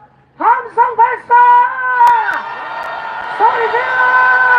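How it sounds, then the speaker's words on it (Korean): Crowd at a nighttime political rally outside a government office in Gwacheon, South Korea, letting out a series of loud sustained shouts and whoops, rising in several bursts then one long roaring cheer, near and dense. "함성 발사!"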